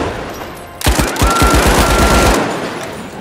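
Automatic gunfire in THE FINALS arena shooter, a sudden loud burst of rapid shots in quick succession that ends in a fading tail, close and dominant with no talk.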